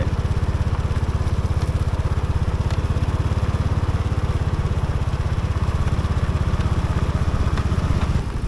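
A farm tractor engine runs steadily at close range, a loud, even low-pitched chugging drone that holds without pause.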